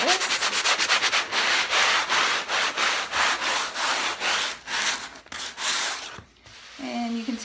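Upholstery fabric sanded by hand, close up, with quick, rhythmic back-and-forth scratchy rubbing strokes that pause briefly near the end.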